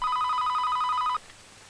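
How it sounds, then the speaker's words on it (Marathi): A telephone rings indoors in a home, a bright, rapid, electronic trill that pulses steadily for just over a second and then stops, leaving a quiet room. "दीपू थांब, आशिषचा फोन येणार होता."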